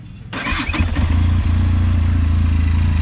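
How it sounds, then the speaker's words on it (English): A Benelli TRK 502X adventure motorcycle engine cranks and fires up, then settles into a steady, throbbing idle from the exhaust, close and loud. "that's the sound of the exhaust"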